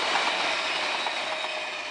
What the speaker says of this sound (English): We have a V-set passing on the up main.